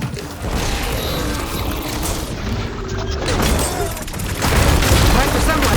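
Glowing crystals detonating in the game Horizon Forbidden West add booming, crackling bursts to loud, continuous battle noise, with a heavier blast swelling near the end.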